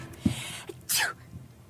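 A single sharp sneeze from a character in Star Wars: The Old Republic, preceded by a brief intake of breath, close and clear against quiet game ambience.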